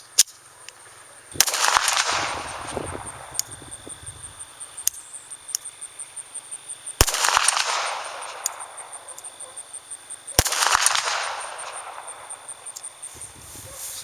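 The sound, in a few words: gunshots from a MAB .32 ACP model GZ pistol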